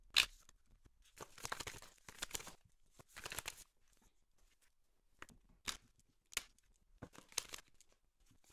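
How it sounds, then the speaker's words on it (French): Tarot cards are drawn and shuffled in a run of quick, soft papery swishes and flicks, in short separated bursts with quiet gaps, close and faint. "maintenant, on va aller tirer les cartes."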